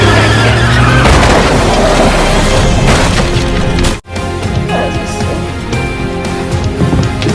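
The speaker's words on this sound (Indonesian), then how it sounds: "Bang langsung menabrakkan mobilnya ke sebuah mobil yang akan membawa Yunji" One car rams into another at a harbour with a loud, sustained crunching roar of splintering impact and skidding, broken by a brief dropout before the noisy grinding continues.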